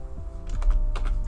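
Keys clatter in a short burst on a computer keyboard as an IP address is entered, a quick run of close taps over a low background hum.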